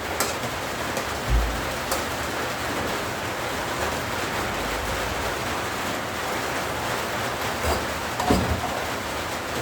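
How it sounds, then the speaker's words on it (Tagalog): Steady rain falls outdoors as a continuous broadband hiss, loud and even throughout, with a couple of faint low rumbles underneath and no voices. "Umuulan na."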